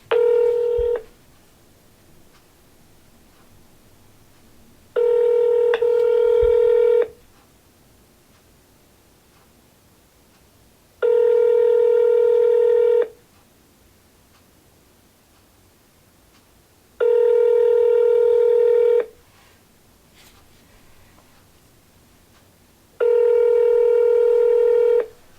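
Telephone dialing tones sound as five long, evenly spaced beeps, each about two seconds, loud and clear over faint hiss while a cold call to a real estate lead rings out.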